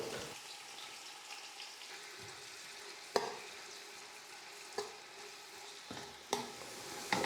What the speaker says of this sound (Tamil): வெங்காயம் வந்து நல்லா இந்த மாதிரி பொன்னிறமாக வர வரைக்கும் நல்லா வதக்கி எடுத்துக்கணும்